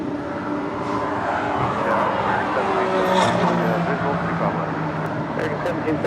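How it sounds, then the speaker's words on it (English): An American Airlines Boeing 787 Dreamliner taking off from runway 24 left at LAX, bound for Tokyo Haneda: a steady, broad jet engine roar at a distance, with a voice faintly present under it. "That was the American Dreamliner heading to Tokyo Haneda, taking off on 24 left there on the north side."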